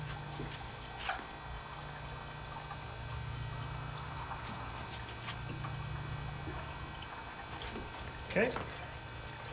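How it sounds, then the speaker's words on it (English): Coolant trickles and pours into the intercooler system of a Kenne Bell supercharged Cobra, a faint steady liquid wash over a constant low pump hum, with a couple of brief louder splashes. "I'm going to add a little bit more coolant."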